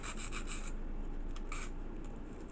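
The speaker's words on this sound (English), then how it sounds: "when you do your own adjustment with a nail file, you just take a smidge off" A nail file rubs back and forth against a lower denture, a close, soft rasping in short bursts with small pauses between strokes, no voices.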